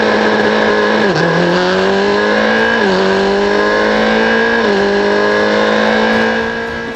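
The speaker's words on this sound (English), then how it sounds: "The lights are on and we are racing down to the first corner." Race cars in a GB4 single-seater race accelerate hard from the start toward the first corner in a loud, continuous engine howl that climbs in pitch, drops at each of three gear shifts and climbs again, with no voices.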